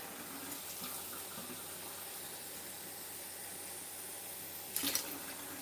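A running kitchen tap fills measuring cups of water poured into a pot, a steady close hiss, with a brief clatter of cup or pot near the end.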